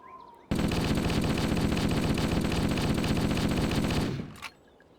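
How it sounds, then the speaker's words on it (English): A 60-round assault rifle in Halo CE fires one long, continuous, loud automatic burst of rapid evenly spaced shots lasting about three and a half seconds, then stops abruptly, heard alone without talk. "the 60-round assault rifle that just burrs out bullets"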